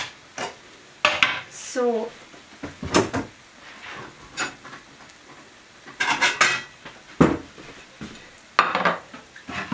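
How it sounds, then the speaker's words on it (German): A large plate being taken out and a cutting board cleared away in a home kitchen, with repeated close clattering of crockery and cutlery in bursts, a brief word spoken between the clanks. "In der Zwischenzeit organisiere ich mal einen großen Teller und räume eben das Brett hier weg"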